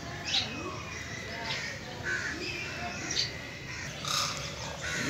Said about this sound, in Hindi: इधर भी कुछ परिंदे रखे गए हैं।